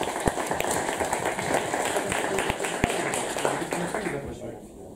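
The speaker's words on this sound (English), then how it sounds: "big applause for all of them" Audience applause for the top competitors at a finale event, broad steady clapping lasting the whole stretch with some sharper claps standing out, fading slightly toward the end, with a voice underneath.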